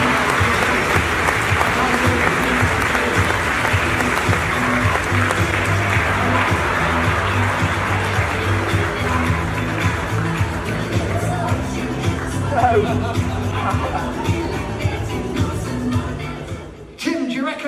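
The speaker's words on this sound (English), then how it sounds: "let's give Tim a huge round of applause for taking" A festival crowd bursts into loud, sustained applause with cheering for a volunteer at a live comedy performance, holding steady for a long stretch before fading just as a voice returns.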